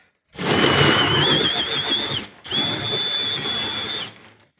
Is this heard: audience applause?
no